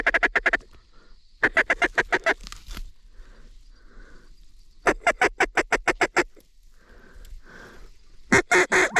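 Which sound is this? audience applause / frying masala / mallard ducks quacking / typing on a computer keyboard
mallard ducks quacking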